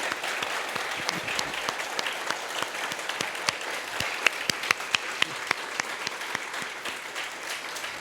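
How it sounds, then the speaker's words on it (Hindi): A church congregation clapping hands during a Sunday service, many people applauding together in a fairly soft, steady patter with a few sharper individual claps standing out. "हम लोग की ताली की आवाज बहुत कमजोर हो गई है।"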